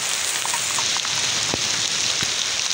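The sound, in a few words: heavy rain after drought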